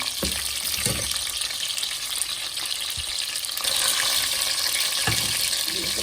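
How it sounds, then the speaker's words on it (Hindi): Frying food for a tinday gosht (round gourd with meat) dish, cooked until a light golden coating forms: a steady close sizzle runs throughout with occasional clinks and stirring. "जब तक इसके ऊपर लाइट गोल्डन की परत नहीं आएगी तो मैं इसको फ्राई करती रहूँगी।"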